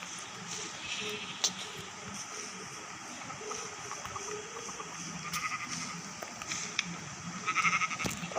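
Sheep in a Minecraft game bleat a few times, fairly faint, over a steady background of game ambience with a soft running-water sound.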